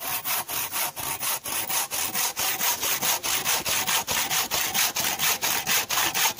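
A hand saw cuts cherry and pine firewood in steady, rhythmic back-and-forth strokes, loud and close, with no talking.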